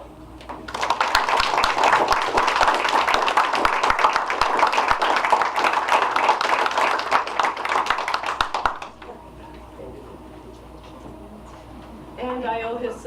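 A board of education meeting audience breaks into sustained applause that builds from a slow clap into dense, loud clapping for several seconds, then stops abruptly, followed by quiet room sound and brief talk.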